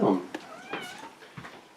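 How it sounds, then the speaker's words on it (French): A house cat that wants to go outside meows a few times, fairly close and clear, with short drawn-out cries following a brief thump. "je vais ouvrir la porte à mon chat qui veut sortir"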